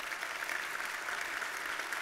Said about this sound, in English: please give them a round of applause for being here.